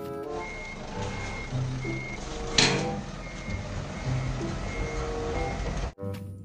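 A toy forklift sounds its reversing alarm, a series of evenly spaced electronic beeps repeating close by, with a sharp click and some plastic rattling before it cuts off abruptly.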